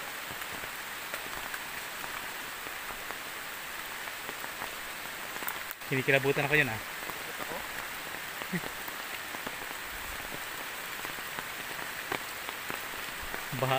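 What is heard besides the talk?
heavy rain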